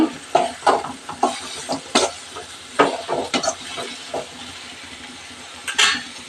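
Capsicum fry is stirred in a pan, a series of scraping and clinking strokes of a spoon against metal at an uneven rhythm over a soft background sizzle, close and clear.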